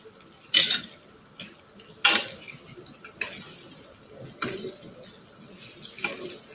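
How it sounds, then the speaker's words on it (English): Water is poured into a pan of browned tenderloin beef in a home kitchen. It gives uneven splashes and sizzles with a few sharp pours and clinks over a low background, close and moderately loud. "Once the meat is done, I will put water inside it."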